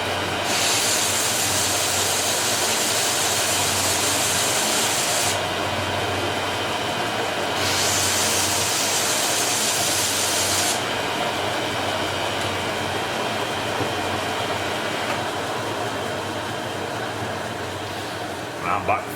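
Tungsten electrode sharpened on a grinder: a loud, steady high-pitched grinding whine that drops and rises as the electrode is pulled away and pressed back, over a constant motor hum.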